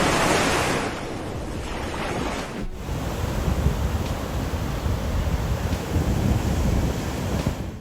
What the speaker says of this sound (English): Massive North Atlantic waves slam into the ship